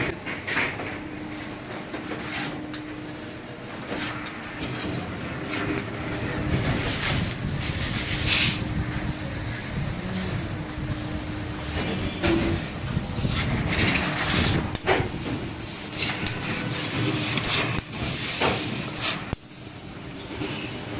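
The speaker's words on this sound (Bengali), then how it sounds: "এখানে অলরেডি সিক্স মিলি প্লেটের একটা কাটিংয়ের কাজ চলছে" A 1500 W fiber laser cutting machine slicing 6 mm metal plate in a metal-cutting workshop gives a steady, loud industrial hiss and hum, with rhythmic clanks and intermittent sharp knocks throughout.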